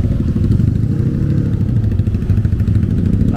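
Motorcycles sit jammed in heavy traffic on a Bandung city street, a dense, steady rumble of idling and lightly revving engines close by, with no voices.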